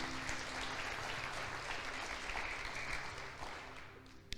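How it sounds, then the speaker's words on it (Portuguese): A church congregation at a final Passover service applauds in worship, a broad continuous roar of clapping at moderate distance that holds steady and thins slightly near the end. "Aplauda o Senhor por isso, se você crê."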